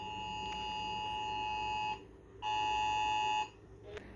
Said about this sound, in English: That's an iPhone alarm.